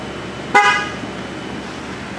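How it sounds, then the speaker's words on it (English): A car horn gives one short, loud honk, sounded while a tire valve is being checked on a 2014 Ford Taurus with a power steering problem, followed by a faint low hum. "The horn honk is good"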